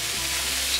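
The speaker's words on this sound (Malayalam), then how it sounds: "എണ്ണ ചൂടാകുമ്പോഴേക്ക് ഈ സ്പ്രൗട്ട് ഇതിലേക്കിട്ട് ഫ്രൈ ചെയ്തെടുക്കാം." Sprouts fry in hot oil in a pan, a steady hiss of sizzling that stays even and close throughout, with no voices.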